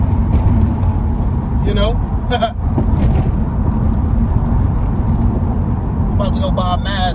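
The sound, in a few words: Acura RSX with K24 engine accelerating with power shifts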